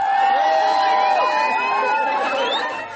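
A big crowd of fans waiting outside a concert at Werchter, a steady wash of excited chatter, whoops and scattered cheers at close range, with voices rising and falling throughout.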